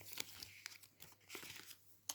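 Soft crinkling of a small plastic cosmetics packet in short bursts, with a sharper rustle near the end; quiet and close, no voices.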